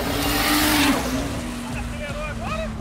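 A Porsche and a 350z drag race, with a car accelerating loudly nearby, a rising engine roar and a brief tire squeal, while excited voices talk over it.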